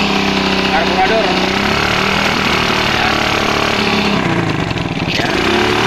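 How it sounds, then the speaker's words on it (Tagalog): A Smash 115 motorcycle with a faulty carburetor runs close by with an uneven, misfiring engine note that revs up near the end, while someone talks over it. "palyado yung carburetor"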